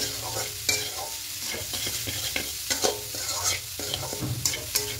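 A pitha filling, likely milk-based for dudh puli, is stirred constantly in a pan, with a steady scraping of the spoon and soft sizzling and occasional sharper clinks against the metal, close by and without voices.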